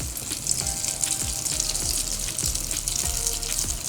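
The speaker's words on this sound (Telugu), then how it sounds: "ఈ పన్నీర్ ముక్కల్ని ఒక్కొక్కటిగా వేసుకొని మీడియం ఫ్లేమ్లో కలుపుతూ చక్కగా ఫ్రై అవనిద్దాం" Paneer cubes deep frying in hot oil on medium flame, a dense continuous bubbling sizzle with soft rhythmic stirring knocks recurring every half second or so, no talking.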